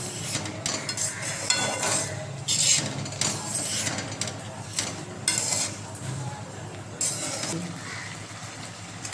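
A spoon stirring a beetroot vadi sweet mixture in a pan, with repeated scraping and knocking against the metal in an irregular rhythm, moderately close.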